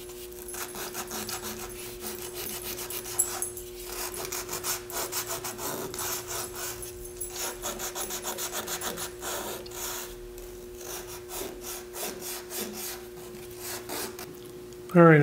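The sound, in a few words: sanding a wood detail on a stationary lathe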